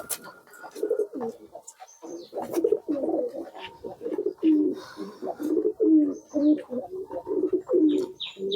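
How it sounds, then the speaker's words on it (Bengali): A male native pigeon coos near the microphone in a repeated rolling rhythm of soft, throaty calls, with faint chirps and background noises in a pigeon loft around it. "দেশি নর কবুতরটা দেখেন এর কবুতরের ডাকটা"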